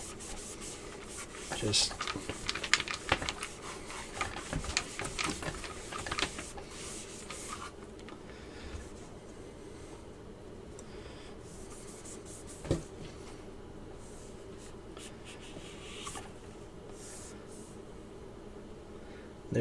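Rusty metal on a gun part removed from its stock gets scrubbed by hand with 0000 steel wool, a close, dry rasping rub in uneven bursts that grows quieter and sparser, with one brief spoken word.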